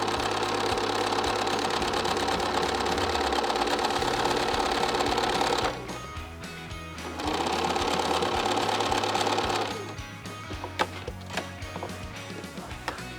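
A sewing machine stitches two pieces of fabric, dark and light, together along a marked seam line while sewing half-square triangles. It runs in a steady, loud whir, pauses briefly, runs again, then stops, leaving a few small clicks and handling noises.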